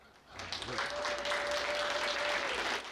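A crowd claps and cheers in a dense, steady burst at an outdoor celebration for a 100-year-old veteran in Midland, Texas, with a brief whistle-like tone riding over the applause.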